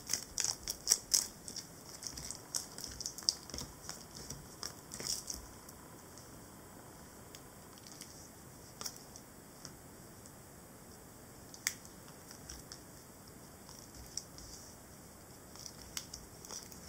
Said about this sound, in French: je mélange, je retourne et vous choisissez